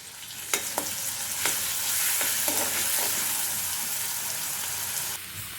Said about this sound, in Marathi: इथं मी हिरवी मिरची आणि लसूण एकत्र बारीक केलेलं आहे ते टाकणार आहे